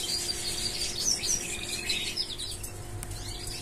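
Young show birds chirp and tweet in a cage during early training, a continuous mix of high, thin calls, moderately loud over a steady background hum.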